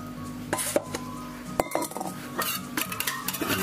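A utensil folds meringue into a Valentine's dessert mixture in a bowl, giving soft scraping strokes and scattered light clinks against the dish, close and fairly quiet.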